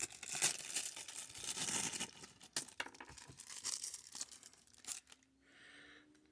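A paper bag holding an action figure build-a-figure piece is torn and crinkled open, with dense bursts of ripping and rustling up close for about five seconds before the noise drops away.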